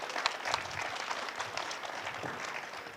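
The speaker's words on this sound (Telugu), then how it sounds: "గట్టిగా చప్పట్లతో" A meditation gathering audience breaks into applause, a fairly faint, dense patter of many hands clapping together, steady for a few seconds then tapering.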